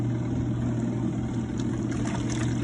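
Portable RV washing machine running with a dirty load of clothes, a steady motor hum with continuous water sloshing, close and even throughout.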